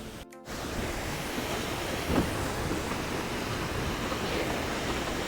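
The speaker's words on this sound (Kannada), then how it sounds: "ನೋಡಿ ಫಾಲ್ಸ್ ಹೇಗಿದೆ ಅಂತ ನೀರು ಮೇಲಿಂದ ದುಮ್ಮಿಕ್ಕಿ ಬರ್ತಾ ಇದೆ" Steady broadband roar of Bhimeshwara waterfall with water plunging from above, continuous and fairly loud throughout with no voices, after a brief dropout at the start.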